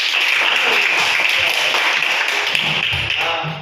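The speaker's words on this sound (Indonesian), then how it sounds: "tepuk tangan untuk kelompok" Applause for a student group in a classroom: a dense burst of many hands clapping together, loud and sustained, fading out at the end.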